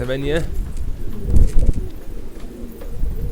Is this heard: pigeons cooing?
yes